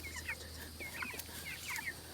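Meat chickens cluck and chirp softly while being moved, several quick overlapping calls over a low steady background hum, moderately close with no talking.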